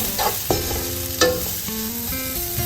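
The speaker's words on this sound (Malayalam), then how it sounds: "അതിൻ്റെ കൂട്ടത്തിൽ 1 ടീസ്പൂൺ കുരുമുളകും കൂടെ മിക്സ് ചെയ്യാം." Prawn biryani masala fries in a pan as garam masala, turmeric and pepper are stirred in, with a steady sizzle and a few clear scraping knocks of the spoon.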